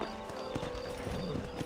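Horse hooves clip-clop at a gallop in the video game Red Dead Redemption, a quick, regular run of hoofbeats, fairly faint, with no speech over them.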